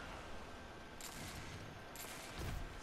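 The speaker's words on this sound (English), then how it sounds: "Shotgun, shotgun" Shotgun blasts in the online shooter Destiny 2, three short bursts spaced about a second apart at moderate level over steady game background noise.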